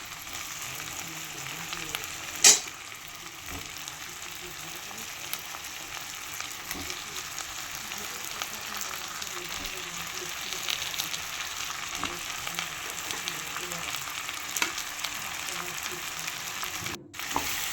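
Prawns fry in a pan for a Bengali malaikari, a steady close sizzle with occasional scrapes and clicks as they are stirred, no talking.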